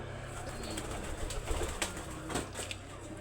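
Pigeons coo softly in a few repeated, low, rounded calls over a steady background hum, fairly close and unhurried.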